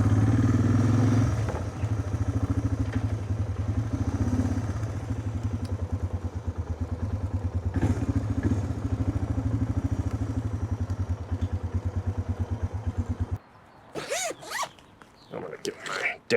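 A motorcycle rides through Hollywood city streets, its engine a steady low drone for most of the stretch before dropping away near the end, while someone talks over it throughout.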